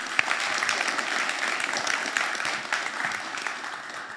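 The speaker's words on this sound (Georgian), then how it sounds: "აბა აპლოდისმენტებით გამაგებინეთ." Audience applause at a press conference for a fighting event, steady dense clapping from a crowd filling the room, fairly loud and sustained.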